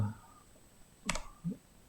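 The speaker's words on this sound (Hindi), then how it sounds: "अब मैं अपने कीबोर्ड पे अप एरो दबाऊंगा" Arrow keys tapped on a computer keyboard while a box is set up in InDesign, two or three sharp separate clicks close by in a quiet room.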